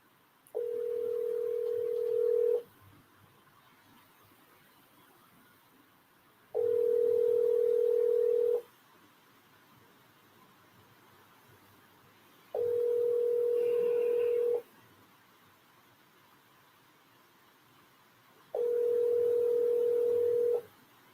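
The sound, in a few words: telephone call dialing and ringing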